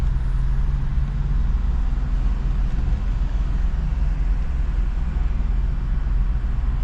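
Steady low rumble of morning road traffic, cars and heavier vehicles passing continuously at moderate distance, with no talk over it.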